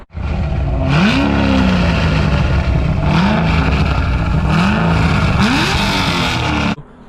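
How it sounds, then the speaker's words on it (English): A Corvette C6 Z06 with its exhaust valves fully open, revved repeatedly in several loud, close blips that rise and fall over a constant roaring idle before cutting off abruptly. "as you guys heard, that was fully open, and fully open on these cars sound amazing when it's a head cam car"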